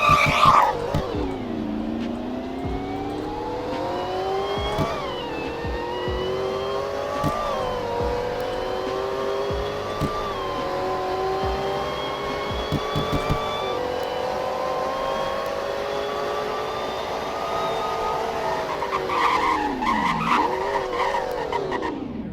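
A video game car engine in the game Greenville revs up and climbs through gears during a speed test, the pitch rising and dropping with each shift, tires squealing now and then; steady and close throughout.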